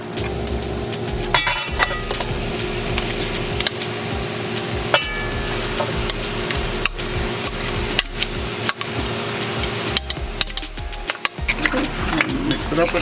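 Goat meat being stirred into curry frying in a pot, with close scraping and knocking of a spoon against the pot over a low sizzle, plus a few sharper clacks along the way.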